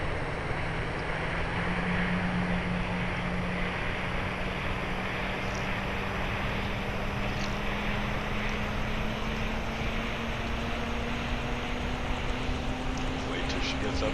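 A Bell 206 helicopter's turbine engine spools up during startup in the DodoSim flight simulator, a steady broadband whoosh with a low tone slowly rising in pitch throughout, constant and fairly loud.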